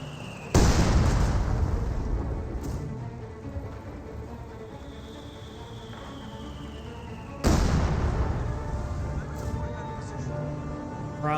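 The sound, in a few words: artillery rounds landing in video game Company of Heroes 2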